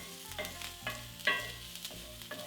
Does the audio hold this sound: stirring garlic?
yes